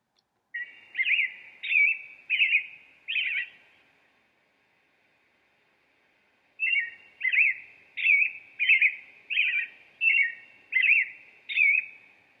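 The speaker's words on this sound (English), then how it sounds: "And if you guessed a bird, you are correct." A backyard songbird in spring repeats a bright chirping phrase, a short run of four notes, a pause, then a longer run of eight evenly spaced notes, clear and moderately near.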